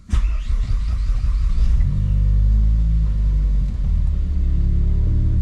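A tuned car's engine drones loud and close while driving, its deep low rumble rising briefly as it accelerates, then holding a steady cruising tone throughout.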